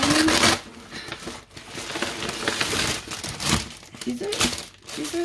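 Plastic packaging on a Smart Doll grab bag crinkles and tears close by as it is opened, in loud irregular bursts, with a person speaking briefly.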